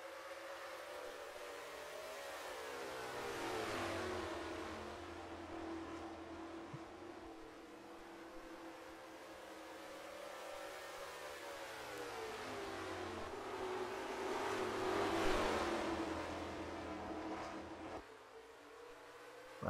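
Race car engines in NASCAR Racing 2003 at North Wilkesboro Speedway, a 1990 First Union 400 race: a steady, continuous drone of multiple engines at moderate level, pitch rising and falling as cars pass through traffic, with no talking.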